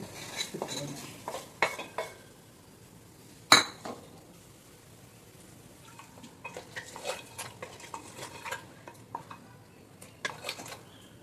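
Ginger garlic paste and masala stirred in a pan for Kochi-style beef and cassava, with close, irregular scrapes and metallic clinks of a spoon against the pan over a faint sizzle.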